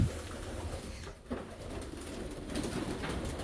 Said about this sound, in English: And here, one of my favorite, the Saxton homing pigeons.